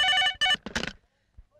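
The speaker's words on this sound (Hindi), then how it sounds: "महाराज लगता है सलीम का कर्जे के लिए फोन आया है" A telephone rings in a Hindi film scene, two electronic ring bursts that are loud and close, followed by brief voices before it falls quiet.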